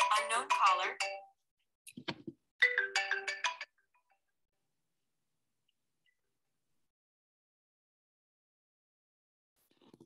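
A phone ringtone plays in short bursts of bright, warbling melodic tones, loud at first, then stops and leaves long silence, with a faint trace near the end.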